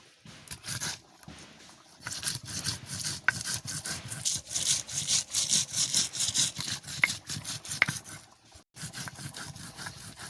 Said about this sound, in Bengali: এখন মশলা বাটা শুরু করবো বুড়ির আওয়াজ পাচ্ছ